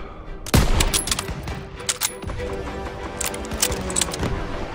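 Gunfire from Call of Duty WW2 bursts out with one sharp, loud shot followed by a rattling mix of rapid distant fire and battle din that continues at a steady level.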